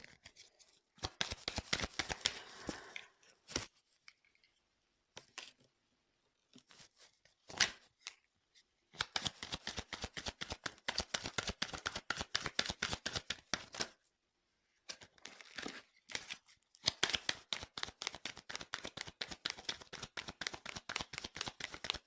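Tarot cards shuffled and dealt in bursts of dense, crisp riffling and slapping clicks, close and fairly loud, separated by brief pauses.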